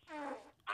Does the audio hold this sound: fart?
yes